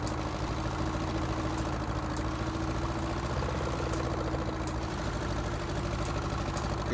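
A vintage tractor laboring up a hill on a 1950s Sussex farm in Farming Simulator 19, its engine a steady, loud, rough drone that holds throughout without pause or talk.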